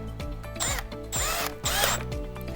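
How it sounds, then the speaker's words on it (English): A cordless drill whirs in several short bursts, the motor's pitch sweeping up and down as screws are driven while replacing a tire, with a ratcheting clutch chatter between runs. "to save time, I'm going to use my trusty drill"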